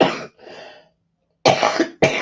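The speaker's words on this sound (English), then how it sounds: "I'm going to cough again." Someone coughs several times in close succession, loud and close, with a short pause and then two more harsh bursts.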